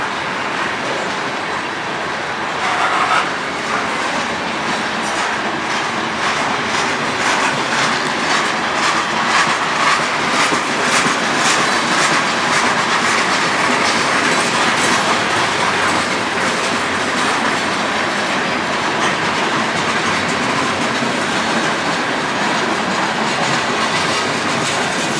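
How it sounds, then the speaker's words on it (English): A long freight train rolls past close by on the Strathroy Subdivision, its cars clattering in a steady, loud clickety-clack with occasional metallic wheel squeal, sustained throughout without any talking. "my 3rd train today."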